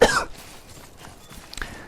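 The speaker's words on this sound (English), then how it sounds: "Sorry about the coughing." One short, loud cough from a person with a cold at the start, then a quiet stretch with faint rustling and a small throat sound near the end.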